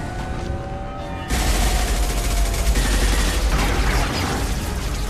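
Sustained gunfire in a Mass Effect 2 cutscene, a loud dense burst of rapid shots that starts abruptly after a quieter opening and continues steadily to the end, with no talk.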